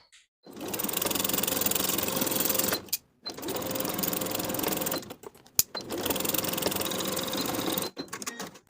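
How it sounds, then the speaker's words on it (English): A sewing machine stitches a basted romper waistband seam in three steady, loud runs of motor whir, separated by short pauses and a sharp click. "sew this previously basted seam from one side to the other, now with a 1/2 inch seam allowance"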